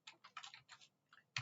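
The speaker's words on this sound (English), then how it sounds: "So in our case, we are typing" Quick bursts of keystrokes on a computer keyboard as a web address is typed, close and clear with short pauses between clusters of taps.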